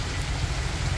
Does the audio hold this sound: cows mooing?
no